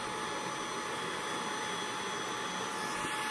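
A Dreame V11 cordless vacuum cleaner runs steadily at close range, giving an unbroken, even motor whine and airflow hiss with no talk over it.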